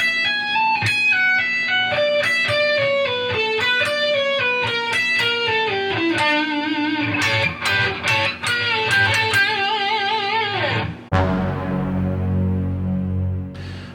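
A distorted electric guitar plays a solo as a run of quick linked phrases with bends and sustained high notes, then drops to a low, thick chord near the end, with no talking.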